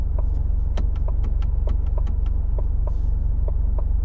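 A 2020 Ford Mustang with the 2.3 EcoBoost engine idles with its exhaust in normal mode, giving a steady, even low rumble throughout, with a series of light, regular ticks and clicks over the top.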